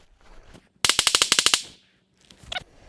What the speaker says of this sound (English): what will I be using to cut down this tree is this M&P 22 compact